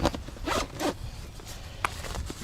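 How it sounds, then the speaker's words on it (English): A zipper closes on the carry bag of a Ghost Blind mirrored hunting blind, several quick rasping pulls up close, with short pauses between strokes. "zip it back up,"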